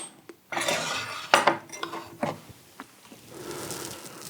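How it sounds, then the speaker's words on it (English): Tea leaves being rinsed in a teapot, with clinks of ceramic and pouring water in a few short bursts, followed by a softer wash of water, close and moderately loud. "We're going to give this a rinse."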